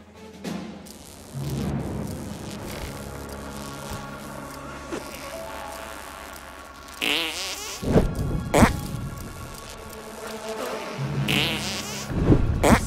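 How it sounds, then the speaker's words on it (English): Wet squelching bursts from a South Park video game zombie level, resembling a ketchup squeeze bottle, sounding in several loud sputtering spurts over a low game background. "Sounds like ketchup in a squeeze bottle."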